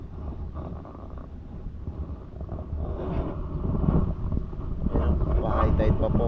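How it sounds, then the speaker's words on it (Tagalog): Coastal wind at high tide buffets the microphone in a continuous low rumble that swells louder toward the end, with no clear voices over it. "Pasensya na po, medyo mahangin po."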